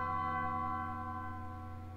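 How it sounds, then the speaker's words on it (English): Church bells tolling in Undertale, a sustained ringing bell tone with long overlapping harmonics that slowly decay, clear and alone with no talking. "don't like church bells"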